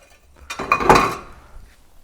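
A metal utensil scrapes and clinks against a paella pan while stirring, a single brief burst of clattering and scraping that fades out, close and fairly loud.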